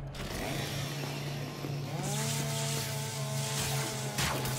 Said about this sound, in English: Chainsaw time.